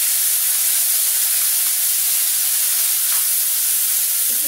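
Asafoetida and a tomato, cashew, ginger and green chilli paste sizzle loudly and steadily in a pan, a continuous close hiss with no break and no voice.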